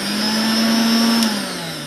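A mixer grinder motor whirs loudly and steadily, drawing power through a serial test lamp, then drops slightly in pitch as it winds down near the end.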